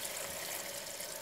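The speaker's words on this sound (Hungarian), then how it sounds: "Jól lepje el a hideg víz a csülkünket," Cold water is poured over a pork hock in a pot, producing a brief, steady rushing pour, close and continuous, with no voices.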